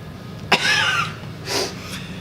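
A person sharply sniffs ammonia smelling salts, one abrupt nasal intake followed by a breathy, gasping reaction and a second softer exhale, close and clear.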